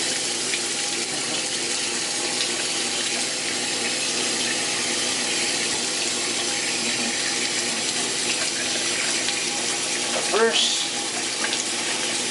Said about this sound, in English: Heat up the hot water.